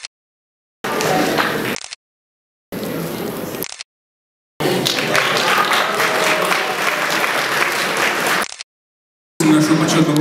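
An audience applauds at a charity gala dinner in several loud bursts of dense clapping separated by abrupt silent gaps, the longest stretch lasting about four seconds.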